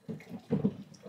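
Liquid magnesia mixture poured into a container, a short close splashing pour with two swells of liquid noise and no talk.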